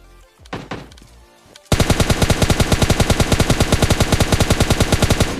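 Rapid automatic gunfire in a solo match of an online shooter game bursts out after a short quiet stretch, a loud, steady rattle of shots continuing to the end.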